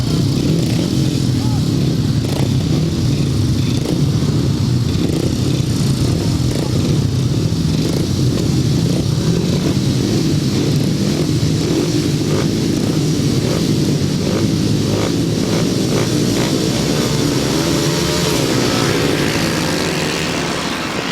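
500cc sidecar outfits race on a grasstrack at a 2016 Super Series meeting, their engines a loud, continuous roar that rises and falls as the machines pass, with a faint voice beneath.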